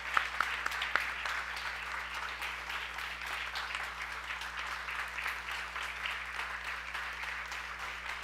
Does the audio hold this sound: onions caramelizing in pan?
no